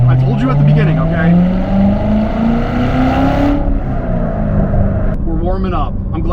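A 2017 Corvette Z06 with a manual gearbox revs and accelerates loudly up close, its engine note climbing steadily for a few seconds and then dropping away, while someone talks over it.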